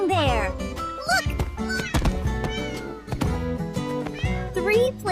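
Three playful kittens meow repeatedly in high, rising cries over a bright cartoon music bed, close and clear, with several distinct mews throughout.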